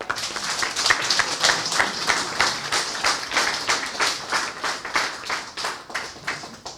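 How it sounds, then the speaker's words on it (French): Audience at a Montréal-Nord citizens' assembly on urban security applauds together, a steady run of close, evenly paced claps at moderate loudness with no voices over it. "on devrait applaudir"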